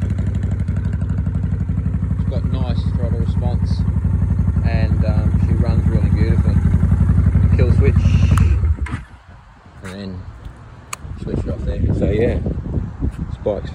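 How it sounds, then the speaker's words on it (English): A motorcycle engine idling steadily up close with a dense low putter and some mechanical clatter, running for about eight seconds before dropping away into wind noise and handling sounds. "It's got nice throttle response, and she runs really beautiful."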